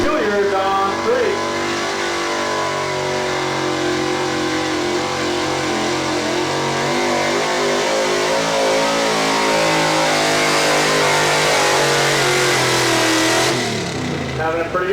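Pro-street truck engine roaring loudly at a 2005 truck pull event in Lawrence, Kansas, a sustained high-revving drone with shifting harmonic pitch running throughout, with an announcer talking over it.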